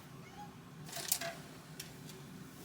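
A house cat meows twice indoors, faint and somewhat distant, over a quiet room background.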